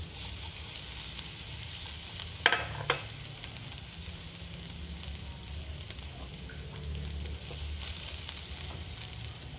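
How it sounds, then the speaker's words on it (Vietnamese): Minced chili stir-fried in a pan with garlic, a steady soft sizzle and frying hiss running throughout with a couple of sharp clinks of the spatula early on, no talking. "Tiếp theo mình cho phần ớt băm vào luôn."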